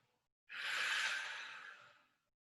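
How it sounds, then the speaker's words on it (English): One long slow exhale during a relaxation breathing exercise, a soft breathy rush that starts abruptly, holds for about a second and a half and fades gradually, close and quiet in a silent room. "Long exhale."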